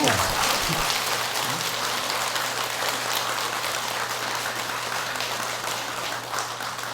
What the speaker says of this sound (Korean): 박수 한번 치세요.